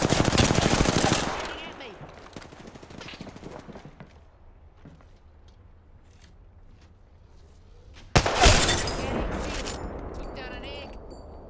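Video game gunfire rips out in loud, rapid automatic bursts at the start, drops to scattered quieter shots and ambient noise, then returns as a dense, close burst of fire toward the end.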